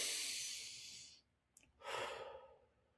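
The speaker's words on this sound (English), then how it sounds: "You even just take a couple breaths like that and you feel it right away." Two slow, deep breaths close to the mic, each a soft airy inhale or exhale of about a second, separated by a brief pause with a tiny click, in a quiet room.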